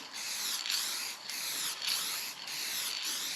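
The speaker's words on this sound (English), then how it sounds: "And the trick with rattle cans, just like anything, is thin coats." Rattle-can spray paint hisses onto a Ford Transit van in four short, even bursts with brief pauses between them, close and steady, with no talking.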